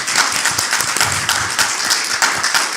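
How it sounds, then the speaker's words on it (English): Audience applause for panel guests at a live creators' panel, a steady dense wash of clapping filling the room throughout with no talk over it. "Let's give them a round of applause for being great guests."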